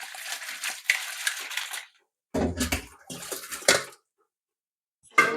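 Crab being washed in water before cooking: splashing and sloshing in bursts with hard clattering of shells against a pot, separated by brief silent pauses.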